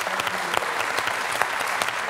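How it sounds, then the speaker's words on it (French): A studio audience applauds steadily on a French TV quiz show, dense and continuous clapping close by throughout the short stretch. "Là, j'applaudis."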